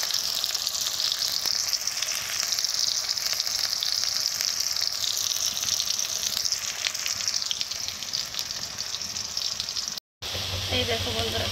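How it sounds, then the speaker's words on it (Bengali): Onions frying in a wok for a meat dish, a loud, continuous close-up sizzle and hiss with little variation, briefly cut off near the end before resuming. "পেঁয়াজটা ভাজা হচ্ছে।"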